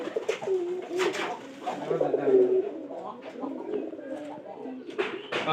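Several pigeons coo in low, throaty bursts close by, in a loft where pigeons are being checked, with rustling and a few brief voices mixed in.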